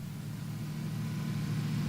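A steady, low car engine in the video game PUBG: Battlegrounds hums continuously, rising slightly in loudness as it draws nearer, with no talking.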